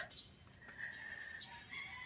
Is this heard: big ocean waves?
no